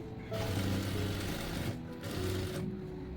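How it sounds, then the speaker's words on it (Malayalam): Sewing machine stitching a V collar neckline, a steady whirring run of stitches that pauses briefly twice before starting again. "ഈ ഒരു ഭാഗം ഇതിൻ്റെ ഉള്ളിലേക്ക് വരുന്ന രീതിയിൽ വേണം നമ്മൾ സ്റ്റിച്ച് ഇട്ട് കൊടുക്കാൻ"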